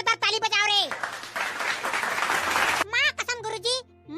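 An audience applauds Paklu in a Chhattisgarhi cartoon comedy, a loud burst of clapping lasting under two seconds between animated voices speaking before and after.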